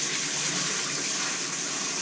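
Water gushes steadily as a tankless water heater is flushed with vinegar, a loud, constant rushing flow that holds even from start to finish with no talking.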